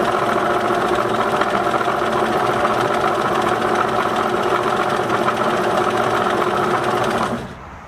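A Singer Merritt 2404 sewing machine runs a long zigzag stitch, a loud steady mechanical whir and rapid needle chatter that ends abruptly near the close.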